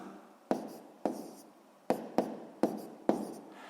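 A pen scratches numbers onto paper while a sixth-grade multiplication problem, 16 times 12, is worked in a column, giving six distinct strokes in bursts, each starting sharply and fading, close and alone.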